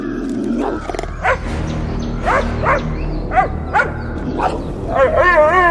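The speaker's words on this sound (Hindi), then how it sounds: "उसका भौंकना तो बंद होने का नाम ही नहीं ले रहा था" A dog barks repeatedly in short, loud bursts at an irregular pace, with a few higher yelps and whines in between, fairly close.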